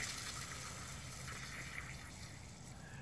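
Water drains out of a frost-proof yard hydrant after it is shut off. It sounds like a faint, steady rushing hiss with no breaks, easing off slightly near the end.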